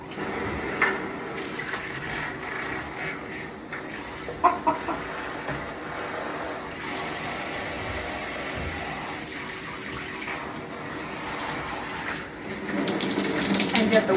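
Warm water runs steadily from a tap to wash show chickens, a continuous moderate rush with occasional splashes, faint clucking and a few spoken words over it.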